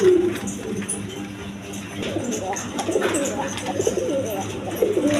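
Pigeons of various breeds kept for sale coo repeatedly at close range, soft rolling calls overlapping in a busy loft with faint background voices.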